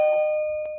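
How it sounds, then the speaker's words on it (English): A doorbell rings once indoors, a clear sustained electronic chime that slowly fades, with a small knock or click near the end and no talking. "Doorbell."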